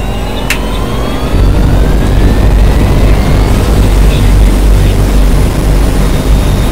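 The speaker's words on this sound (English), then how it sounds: "Engine start." An aircraft engine starting up at an abandoned U.S. Air Force base, a loud, steady roar that swells after a second and holds, with no talking.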